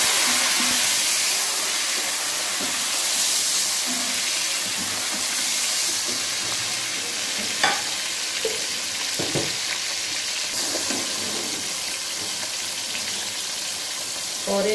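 Chopped tomatoes hit a pan of golden fried onions for an egg and potato curry, setting off a steady, close, loud sizzle with a bright hiss that runs the whole time, broken by a few scrapes of stirring.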